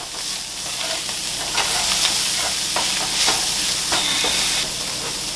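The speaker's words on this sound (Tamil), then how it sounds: "2 டூனா நல்லா மிக்ஸ் பண்ணி விடுங்க" Tuna mixture with turmeric powder stirred and mixed in a hot pan, a steady sizzle with repeated scraping strokes of the spoon, close and continuous with no voices.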